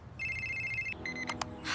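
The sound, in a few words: phone ringing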